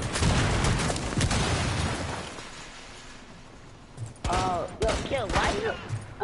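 Gunfire in a multiplayer tournament video game: a dense burst of rapid shots opens, fades to quieter background shots, then bursts resume alongside tonal game sounds.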